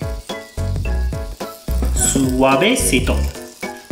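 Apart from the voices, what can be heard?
okonomiyaki batter sizzling on a hot griddle with oil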